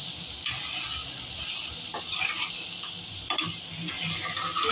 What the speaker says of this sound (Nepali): अनि यसलाई नै हामीले राम्रोसँग चलाउने।